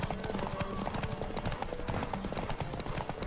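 Horse hooves galloping in The Witcher 3: Wild Hunt, a steady run of clip-clop beats that carries on through the whole stretch over a dense, busy game soundscape.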